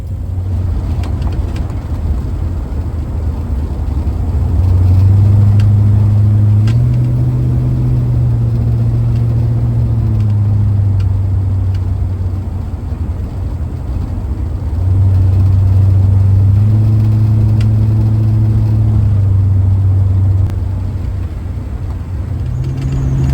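A big block 1958 Dodge with Holley Sniper EFI fuel injection drives on the road. Its loud, deep engine rumble swells twice as it accelerates, then settles back to a steady cruising drone.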